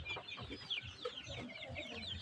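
Free-range native chickens on a meat farm cluck continuously, several birds close by with overlapping calls and brief squawks over a steady background of farmyard noise, and no one talks.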